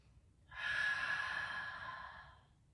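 A single long, deep exhale during a gentle beginner's yoga flow in Dolphin Pose, soft and breathy, swelling quickly and fading slowly over about two seconds, close to the microphone with no talk.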